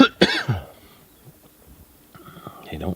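A person coughs sharply outdoors in a rural field setting near wild turkeys and chickens. The cough is one loud, close burst at the start, followed by quiet rustling and a short vocal sound at the end.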